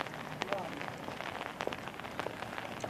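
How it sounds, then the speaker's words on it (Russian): Rain falls steadily on an outdoor street, a dense hiss of patter with scattered louder drops close by, fairly quiet and without talk. "Обратно идем, дождь."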